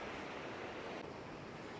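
Sea waves washing onto a Philippine shore, a continuous soft broadband rush of surf with some wind noise, fairly faint and steady without voices.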